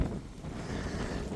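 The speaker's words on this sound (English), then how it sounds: "It got windy, so I'm sorry if it's you can't hear real good" Wind buffets a microphone outdoors beside a cornfield, giving a low, rumbling, gusty roar that continues through the short moment.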